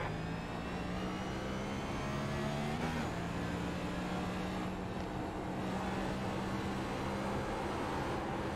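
Race car engines in a racing game during a league race, a continuous loud droning hum with a brief pitch shift near the start, steady and close with no talk over it.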